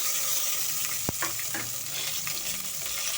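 Onions frying with salt in a pan for avarekalu menthya bath give a steady, close sizzling hiss, broken by one sharp clink and a few soft stirring scrapes.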